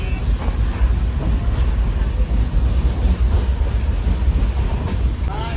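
A train pulling out on a Konkan-bound journey: steady low rumble and rolling clatter of wheels on rails, loud and continuous throughout, with faint voices in the carriage.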